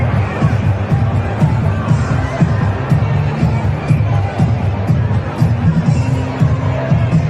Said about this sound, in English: Incredible crowd today at the rally in Pennsylvania.